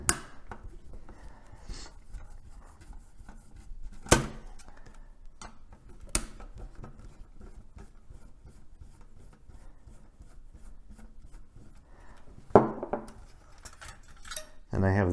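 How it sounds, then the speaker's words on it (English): Small metal screws being removed from a Nintendo GameCube motherboard, with sparse faint scrapes, ticks and a few sharp metallic clicks close up in a quiet room. "So then what I'm going to want to do is take these 2 screws out."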